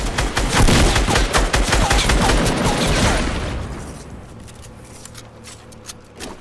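Rapid bursts of gunfire from a gun in the video game Fortnite, loud and dense for about three seconds, then thinning into scattered, fainter shots with no talk.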